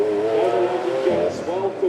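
A supercar engine, likely a V12 at a supercar weekend hill event, revs hard through a gear change, its layered harmonic roar rising and dipping close by under a steady loud drone.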